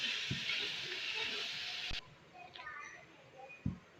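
Beef qeema frying with tomatoes in a pan gives off a steady, loud broadband sizzle that cuts off abruptly partway through, leaving quieter kitchen background with a few soft clinks and faint voices.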